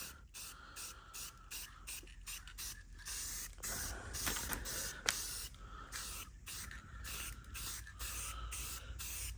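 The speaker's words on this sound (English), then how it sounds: "so we're gonna go ahead and throw a little bit of paint on here. I'm gonna do a real light coat at first." Spray paint hisses onto Lexan rear windows of a Honda Civic in a light coat, short close bursts separated by brief pauses, with a longer sustained spray in the middle.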